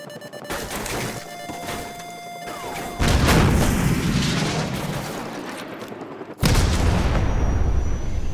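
Gunfire in Call of Duty Modern Warfare Remastered comes as two sudden, loud booming bursts with rumbling tails, after quieter tonal game sounds, with no talk.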